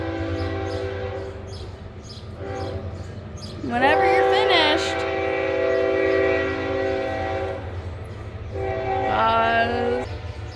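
A train passes with loud rumbling and two long blasts of its horn, one early and one near the end, while a person speaks briefly over the noise.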